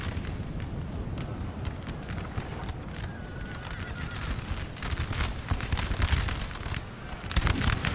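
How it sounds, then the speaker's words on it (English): Musket volleys in a Napoleon: Total War battle at Heilsberg, 1807, an irregular crackle of massed shots mixed with distant booms and battlefield clatter, growing somewhat louder toward the end. "Brutal musket fight going on over here"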